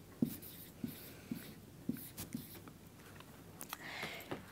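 Chalk or marker strokes tap and scrape across a board in short, evenly spaced bursts, close and clear over a quiet room.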